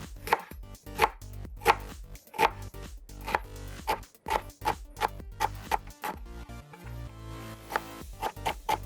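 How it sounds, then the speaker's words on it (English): A knife slicing shallot on a cutting board, a quick regular run of sharp close chops, about a dozen in eight seconds, with a short pause near the end, no voices. "We'll slice up some shallot."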